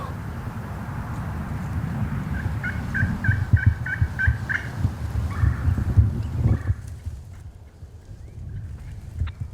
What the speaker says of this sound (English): We got a strutter gobbling behind us.